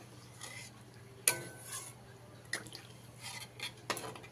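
A utensil scraping and knocking in a pan while tilapia curry gravy is mixed with a little water, giving a few sharp clinks and scrapes over faint liquid sounds at low volume.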